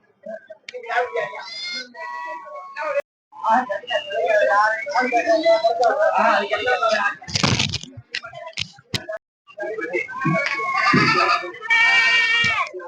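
Goats bleat repeatedly among mixed herds at the Ettayapuram Friday goat market, several loud calls close by, overlapping with people talking throughout.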